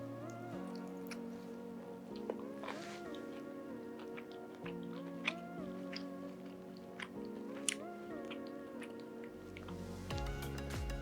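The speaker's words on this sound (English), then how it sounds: "I can tell already that it's got a really nice crunch to it" Someone chews crispy breaded sesame chicken schnitzel up close, faint crunching bites with occasional sharper cracks under a steady tonal background hum.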